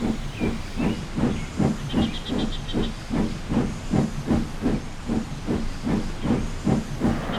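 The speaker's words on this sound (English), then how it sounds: "The guard blew his whistle, and the big green engine puffed away with the express." Rhythmic loud steam puffs chug steadily like a locomotive pulling away, with a short high whistle-like tone near the start.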